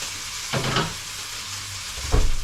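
Marinated steak sizzles as it goes into a hot pan, with a soft steady hiss and two brief louder bursts of frying and scraping, heard close up.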